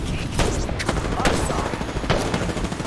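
Rapid bursts of gunfire in the video game Apex Legends, dense overlapping shots and automatic fire, loud and close, with a faint voice underneath.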